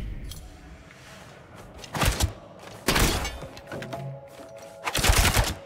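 Rapid Fire skill attack in Diablo IV, three loud bursts of quick successive shots spaced a second or so apart over a quieter game background.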